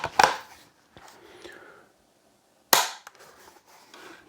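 Two sharp mechanical clicks from a 6.5 Creedmoor rifle trigger being pulled, the first near the start and the second later on, each close and crisp, with faint handling noise in between.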